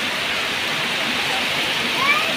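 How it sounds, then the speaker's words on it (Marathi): Heavy rain pours down in a dense, steady hiss that stays even and close throughout, with no voices. "पाऊस डेंजर चालू आहे."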